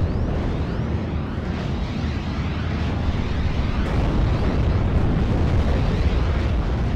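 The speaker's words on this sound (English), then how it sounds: "now I'm going to be bringing in the Calliope to try and hit that as well" Calliope rocket barrage explosions in the WWII strategy game Steel Division: Normandy 44, on the Omaha map, forming a dense, continuous roaring rumble of blasts that stays loud and steady throughout, with no talk.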